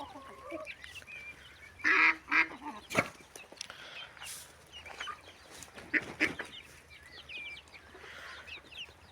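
Domestic ducks on a poultry farm give a series of loud honking quacks and calls in scattered bursts, with other fowl clucking around them.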